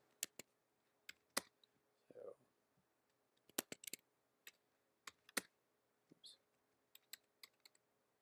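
Typing code comments on a computer keyboard: sparse, quiet key clicks in short bursts and single taps, close by, with a brief murmur from a person partway through.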